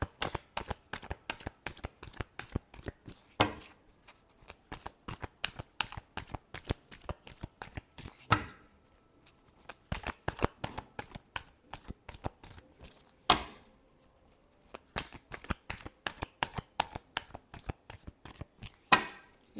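A deck of tarot-style reading cards is riffled and shuffled repeatedly, a fast rhythmic run of crisp close flutters with brief pauses between bursts, no talking.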